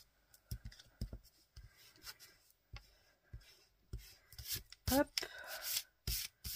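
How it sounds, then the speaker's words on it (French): A pencil eraser rubbing over a drawing through a sheet of vellum makes intermittent scratchy bursts of varying length, close and fairly quiet, with a brief spoken word in between. "Je vais venir gommer mes traits quand même, que ça se voit pas, au travers du vélum."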